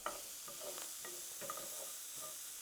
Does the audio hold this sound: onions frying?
yes